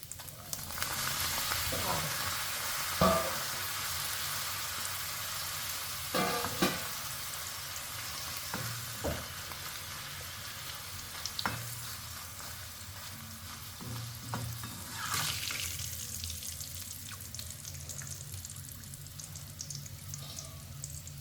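Crushed dried chillies and garlic fry in hot oil with a steady, close sizzle, broken by occasional sharp clinks and scrapes of a utensil against the pan.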